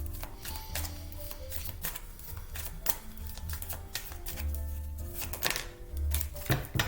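Rapid, crisp flicking and riffling of oracle cards being shuffled close by, in quick irregular bursts with small taps between.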